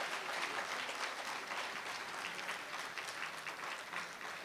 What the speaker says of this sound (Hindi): जोरदार तालियां एक बार सभी कलाकारों के लिए